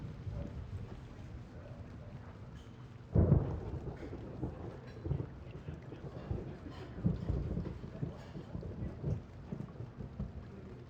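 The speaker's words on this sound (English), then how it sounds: "Looks like the rain's letting up." Steady rainfall with sharp cracks and low rumbling rolls of thunder in the MS-DOS game The Pandora Directive, a loud crash near the start and further rumbles later, with no voices.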